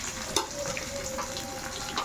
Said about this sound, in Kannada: ಇವಾಗ ಇದನ್ನು ಚೆನ್ನಾಗಿ ಬೇಯಿಸ್ಕೊಳ್ಳಿ ಫಸ್ಟ್ ಎಣ್ಣೆಯಲ್ಲಿ